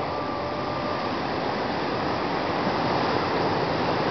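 Big surf at West Oahu, heard as a steady, dense roar of breaking ocean waves with no distinct individual crashes.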